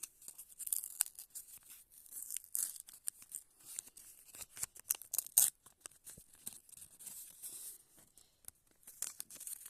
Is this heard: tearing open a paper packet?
yes